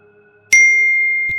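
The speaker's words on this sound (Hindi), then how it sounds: "घर की डोरबेल फिर से बजती है" A house doorbell in an animated horror story gives one sudden, loud ding that rings on and slowly fades, and a soft thump follows near the end.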